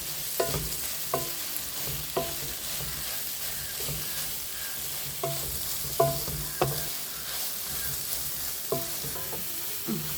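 Soya chunks with salt and turmeric fry in a hot pan, a steady sizzle broken by a series of sharp scraping stirs of the spoon at irregular intervals, close and moderately loud, with no talking.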